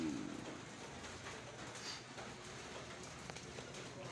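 Steady rain pattering on a surface, with faint bird calls in the background and no talking.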